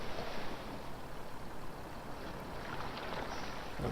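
A truck stalled and stuck in water in the off-road driving game Mud Runner, with a steady churning, sloshing water wash and a low rumble running continuously throughout, no talking.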